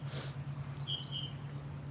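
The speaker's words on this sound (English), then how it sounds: "I know, Jill, the birds are amazing this morning" Morning birdsong: a couple of short, high chirps arrive faintly around the middle, set against a steady low hum and quiet room noise.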